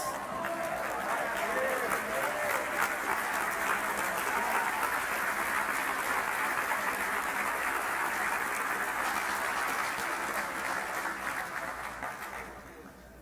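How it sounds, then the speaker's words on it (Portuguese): Church congregation at the Presbyterian church in Manaus applauds at length, a broad wash of clapping from many people that holds steady and then fades out near the end. "A gente podia ficar de pé e dar um glória a Deus e aplaudir o nome de Jesus."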